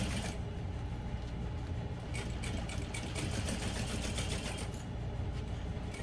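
A sewing machine runs steadily close by, stitching vinyl and waterproof canvas for a clutch bag, with a fast, even mechanical hum and light ticking that pauses briefly near the end.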